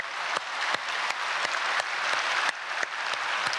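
A church congregation claps for the children at an early-morning prayer service, steady sustained applause filling a large hall with no voices over it.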